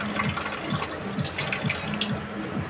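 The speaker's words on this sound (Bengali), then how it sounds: "থালাবাটিগুলো ধুয়ে নিচ্ছি এই ফাঁকে" Tap water running into a sink while dishes are washed, a steady faint splashing stream with soft rhythmic clinks and rubs of plates repeating about every half second.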